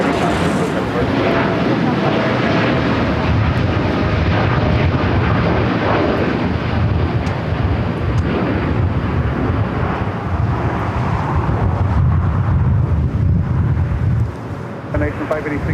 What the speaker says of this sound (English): There on the north side as this United Dreamliner now takes off here on the south side.